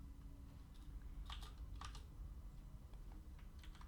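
An HTML input tag is typed on a computer keyboard, with quiet, irregular bursts of key clicks coming in small clusters and sitting close and faint.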